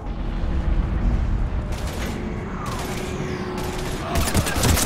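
Gunfire during a firefight against husks in the Mass Effect 3 video game, with repeated bursts of shots over a constant loud rumble of battle ambience.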